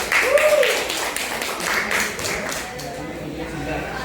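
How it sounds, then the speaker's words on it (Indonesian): A classroom claps for a student group after its presentation, a short burst of many hands that thins out over a few seconds, with voices talking through it. "Tepuk tangan dong buat kelompok 2."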